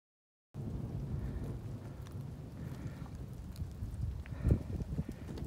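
Thunder from approaching storms over an Appalachian Trail mountain ridge rolls as a low, continuous rumble for several seconds. A heavier thump comes near the end, and there is no speech.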